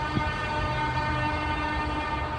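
A loud, steady, blaring horn with several sustained tones holds for the full couple of seconds, close and continuous over a low background rumble.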